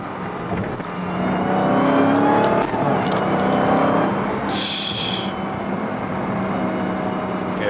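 A 2023 Dodge Hellcat Redeye Jailbreak with an 807 hp supercharged engine pulls hard, its loud rising roar and whine building from inside the car, with a sharp hiss or burst partway through.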